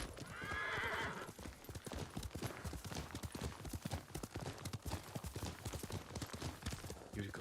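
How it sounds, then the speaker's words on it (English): A horse in the Ghost of Tsushima video game whinnies loudly at the start, then trots with a steady, rhythmic clip-clop of hooves that continues to the end, with no talking. "Yuriko's horse. She can't be far."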